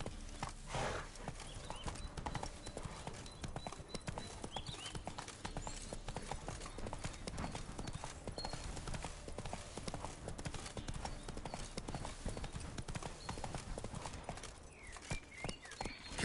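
Roach the horse gallops in The Witcher 3, a steady, dense clip-clop of hooves running continuously from start to finish, close and loud, with a brief whinny near the start and a voice urging it on.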